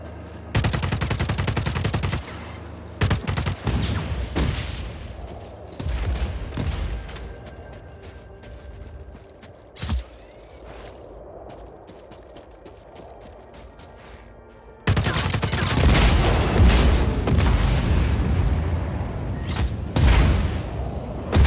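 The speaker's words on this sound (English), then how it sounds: "With an underbarrel grenade launcher." Gunfire from a service rifle with an underbarrel grenade launcher in the Just Cause 4 video game, heard as loud bursts and heavy booming blasts, with a quieter stretch midway before dense firing resumes.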